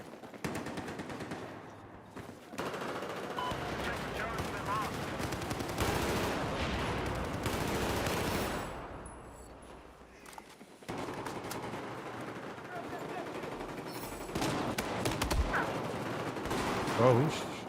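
Bursts of automatic gunfire rattle through a Battlefield 4 match on PC, in rapid close-range volleys with a few short pauses between them. A player talks intermittently over the shooting.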